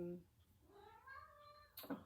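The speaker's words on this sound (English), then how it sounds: "there's my cat" A pet cat meows once in a rising, drawn-out call, close and fairly clear, in a quiet sewing room where quilting fabric is being handled, with a brief burst of voice and rustle right after.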